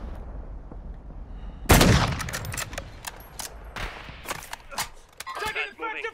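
Sniper rifle fire in the Warzone 2.0 video game: one loud, sharp shot bursts out, followed by scattered quieter gunfire cracks, with players talking over the top.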